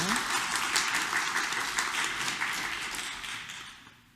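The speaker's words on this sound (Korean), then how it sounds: "성민이 일어서 우리 박수 한번 보내줄까요" Congregation applauding during a Korean Catholic feast-day Mass in a church, a fairly even patter of many hands that gradually fades out over about four seconds.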